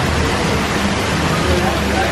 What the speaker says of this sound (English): now we're just waiting for the rain to stop